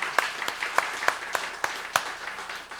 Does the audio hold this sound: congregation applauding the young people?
yes